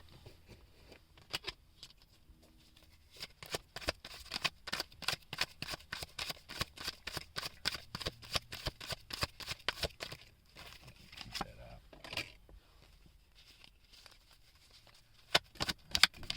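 Tarot cards are shuffled by hand at close range, bursts of quick riffling flutters and soft papery slaps repeating over about sixteen seconds, with brief pauses between rounds and no talking.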